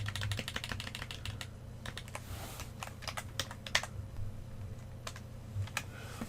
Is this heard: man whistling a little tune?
no